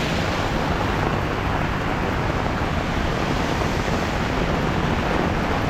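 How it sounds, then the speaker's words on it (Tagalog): Strong wind and rain in Canada roar as a steady, loud, unbroken wash of broadband noise with wind buffeting the microphone, continuing unchanged throughout with no speech. "Yung lakas ng hangin saka ulan."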